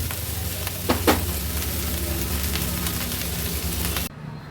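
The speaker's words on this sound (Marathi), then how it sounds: "हाय फ्लेमवर व्यवस्थित राईस आपल्याला मिक्स करून घ्यायचा आहे" Mushroom fried rice stir-fried over a high flame makes a loud, continuous sizzle and hiss, with a couple of sharp scraping knocks early on, then cuts off abruptly near the end.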